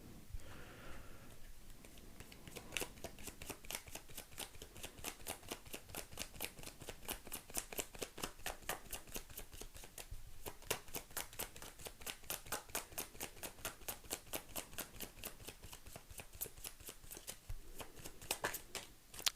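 A tarot deck shuffled quickly and steadily during a card reading, rapid riffling clicks in a long even run, close and soft, with a brief pause before the cards are drawn.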